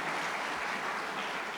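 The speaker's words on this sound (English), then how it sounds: "we can applaud" An audience at an event at the Nixon Library applauds in a brief, steady wash of clapping from many hands, with no talk over it.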